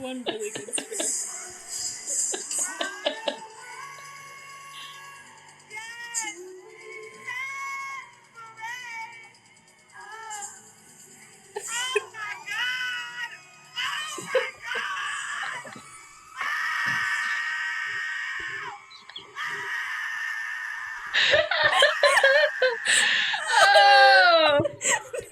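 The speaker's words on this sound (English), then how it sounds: "There's one really good scream." A person's voice screams, cries and squeals in shrill, wavering bursts from a played video clip, growing louder and more frantic toward the end, with another voice heard in between.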